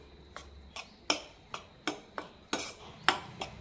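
Malt powder and jaggery powder are stirred in a bowl, with a steady series of about ten sharp clinks of a spoon against the bowl, evenly spaced and fairly close.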